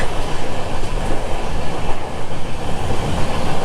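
Coimbatore-Mumbai LTT Express train crossing a short bridge, heard from inside the coach as a loud, dense rumble with rapid rhythmic clattering of wheels over the track throughout.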